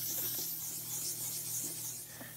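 A headlight lens is wet sanded with 1200 grit sandpaper, giving a steady, close, continuous rubbing rasp that holds even throughout and eases slightly near the end.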